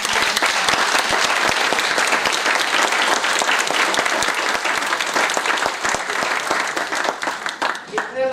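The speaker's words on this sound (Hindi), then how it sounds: "चलो ताली बजाओ अपने आप के लिए।" Dense, sustained applause from a workshop audience of distributors clapping for themselves, steady and loud for most of the stretch before thinning slightly at the end; a voice talks faintly underneath.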